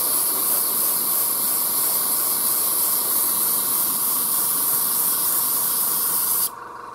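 Aerosol spray paint can hissing steadily and close up for several seconds while burnt umber and rust tones are sprayed onto sci-fi water tower terrain, then cutting off abruptly near the end.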